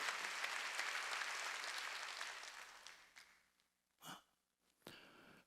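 Clapping from a church congregation at a Wednesday worship service, a dense wash of applause that gradually thins and fades out over several seconds, followed by a couple of short breathy sounds near the end.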